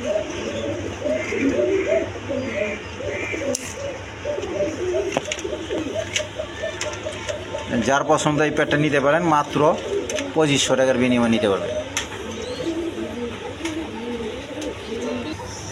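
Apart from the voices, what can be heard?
pigeons cooing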